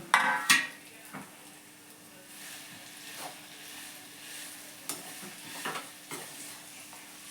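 Dates softening in ghee in a kadai over low heat, a soft sizzle under scattered scrapes and clinks of a spoon stirring against the metal pan.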